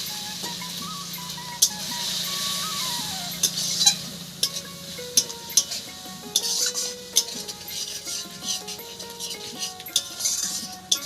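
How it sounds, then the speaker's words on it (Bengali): Ground spice masala of turmeric, cumin and chili powders sautéing in a pan with a little water, a soft steady sizzle beneath repeated clinks and scrapes of a spoon stirring against the metal. "এবার অল্প করে জল দিয়ে কষিয়ে নেব মশলাটা।"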